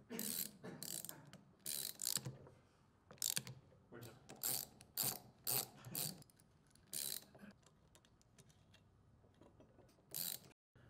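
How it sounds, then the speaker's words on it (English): Ratchet wrench tightening bolts on a Kimray pressure-reducing regulator, sharp close clicking in short bursts with brief pauses between, repeated about a dozen times. "fully tighten all the bolts in a crisscross pattern"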